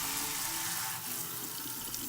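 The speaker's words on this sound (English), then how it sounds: "now it's time to add the water" Warm water pours steadily from a tap into paper mache clay being mixed for sculpting cupcakes, a close, continuous splashing rush with no talk.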